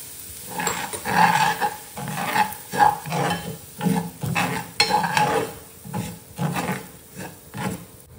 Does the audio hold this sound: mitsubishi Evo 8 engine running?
no